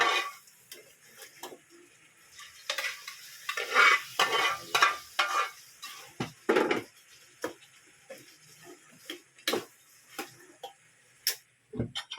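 Mushrooms go into a pan of chicken salpicao, with scattered spoon clinks and scraping stirs over a light, intermittent sizzle, busy in the middle and sparse near the end.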